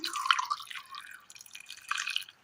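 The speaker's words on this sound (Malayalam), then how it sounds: "ഇതിലേക്ക് ഒരല്പം വെള്ളം ഒഴിച്ചു കൊടുക്കാം" Water poured into a mixer jar holding chopped carrots, a short trickling splash with dripping tones that fades and briefly resumes, close and fairly quiet with no talk.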